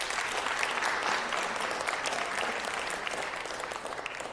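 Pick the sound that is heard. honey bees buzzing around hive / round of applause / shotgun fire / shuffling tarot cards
round of applause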